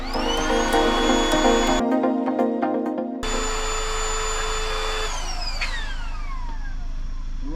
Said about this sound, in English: How fast can it blow up this little pillow?